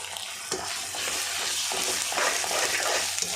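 Ginger garlic paste and cumin hit hot oil in a pan for a chicken fry, giving a loud, steady sizzle with stirring scrapes throughout.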